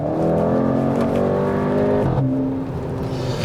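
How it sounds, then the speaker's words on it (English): A 230 hp Skoda Octavia RS from 2017-2018 accelerates hard, with a loud, close engine note climbing steadily in pitch, then a brief dip at a gear change before rising again. "Some curves, and now another acceleration."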